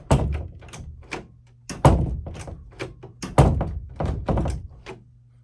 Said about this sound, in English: you're gonna want to just test the door to make sure that it's opening and closing as expected.